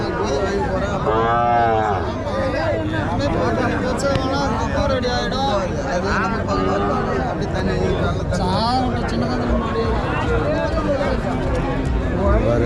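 Native cattle low repeatedly at a busy livestock market in Tirupattur district, with several close, loud moos overlapping under continuous crowd chatter and people talking nearby.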